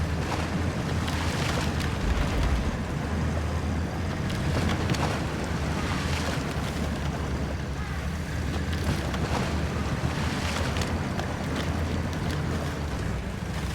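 An off-road vehicle with a HAL GTE1500 engine drives through water in the Expeditions video game, giving a steady, loud rushing wash of splashing and engine rumble throughout with no talking.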